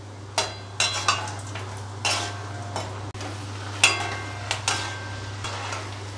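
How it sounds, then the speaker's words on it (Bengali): Peanuts fry in a pan, with a steady low hum underneath and repeated sharp clinks and scrapes from stirring, spaced a second or so apart. "এবার একটু চিনে বাদাম ভেজে নেব।"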